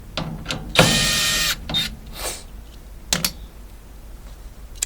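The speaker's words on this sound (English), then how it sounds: "Now we want to get in and remove all of these little screws." Small quarter-inch screws coming out of a Maytag dryer panel, with a long ratcheting whir and scattered metallic clicks and taps, close and fairly loud, no talking.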